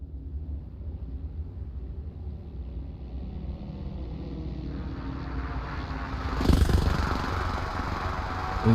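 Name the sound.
aircraft flying in for a drop in video game Arma Reforger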